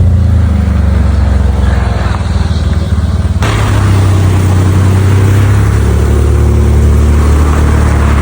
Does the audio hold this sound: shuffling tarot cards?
no